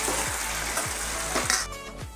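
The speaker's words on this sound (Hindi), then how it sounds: "अब इसे 5 से 7 मिनट उबलने दीजिए" Kadhi with colocasia (arbi) leaves, a Chhattisgarh dish, boils and sizzles steadily in a pot, a close, continuous bubbling hiss with a few soft stirring knocks.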